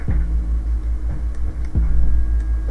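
Heavy 808 bass from a trap beat played alone, deep booming notes with a few punchy hits over a constant low rumble, and no talking.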